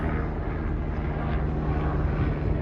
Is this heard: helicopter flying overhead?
yes